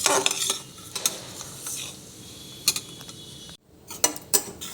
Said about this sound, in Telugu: నెయ్యి లేదా ఆయిల్ వేసి వేపుకోవాలి. గోధుమ రవ్వని దోరగా వేపుకోవాలి.